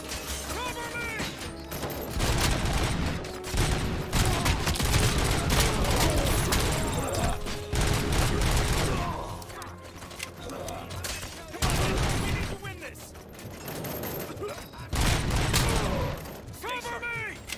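Gunfire in the Robocop video game, sustained rattling volleys in loud bursts separated by brief lulls, with shouted voices among the shooting.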